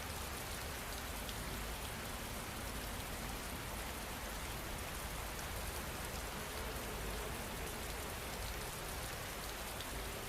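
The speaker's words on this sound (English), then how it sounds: "the rain will continue for 30 more minutes" Steady rain ambience, a dense even hiss of falling drops on surfaces that holds constant throughout, with no distinct individual drips or voices.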